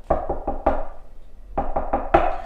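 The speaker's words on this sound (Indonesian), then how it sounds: "dari pintu depan terdengar suara ketukan" Knocking on a front door: two firm groups of four raps each, separated by a short pause, close and solid with a hollow wooden tone.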